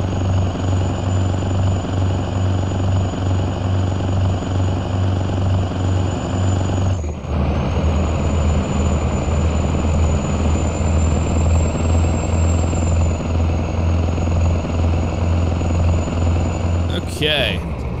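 Simulated diesel mine train engine in a train simulator game mod, a loud continuous droning rumble with a steady high whine, briefly dipping midway and ending with a short sharp transient.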